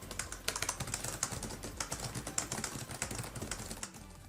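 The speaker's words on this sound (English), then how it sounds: "The system I'm showing you today has the Cherry Ultra Low Profile True Mechanical Keyboard." Rapid typing on an Alienware laptop's Cherry ultra low profile mechanical keyboard with 1.8mm key travel, a dense run of quiet, crisp clicks and taps continuing steadily over a soft background hum.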